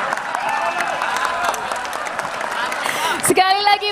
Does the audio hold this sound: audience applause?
yes